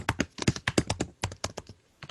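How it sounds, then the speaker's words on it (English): Rapid keystrokes on a computer keyboard, a steady run of close, crisp clicks with brief pauses, heard alone. "Typing."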